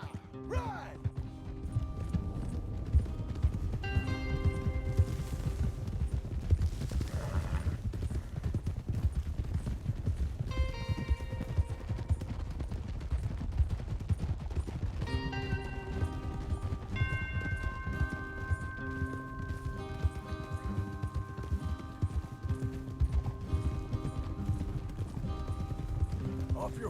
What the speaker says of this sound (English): Off your horses here. We'll be better on foot.